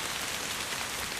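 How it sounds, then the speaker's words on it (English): Rain falling in the Nature Treks VR game, a steady soft hiss of drops that stays even and faint throughout, with no voices. "Can have a bit of rain coming down."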